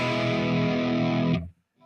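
Electric guitar played through a NUX MG-400 multi-effects unit on its morning drive preset, a sustained distorted chord ringing loudly for over a second before being cut off abruptly, leaving near silence.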